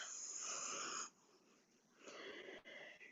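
Soft, breathy exhales and inhales come from a person relaxing on a mat during a spinal mobility floor exercise, close and quiet, with a gentle pause between breaths.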